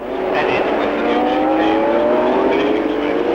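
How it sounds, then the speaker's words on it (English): 1967 Formula 1 race cars warming up at the Nordschleife, engines droning close by with rising, sustained revs and overlapping tones of more than one car. "Drivers can now warm the cars up on the short length round by the south curve and back through the gate to the top of the tunnel"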